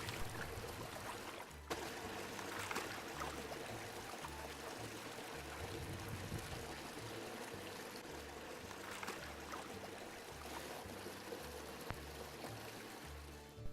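Jasper the dog splashing and wading in a small creek on a hot day, with steady trickling and lapping water close by and soft intermittent sloshes.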